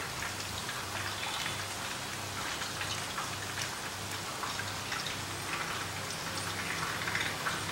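Fish sizzles in mustard oil in a pan, a continuous crackling hiss with fine popping, steady and fairly faint throughout with no talking.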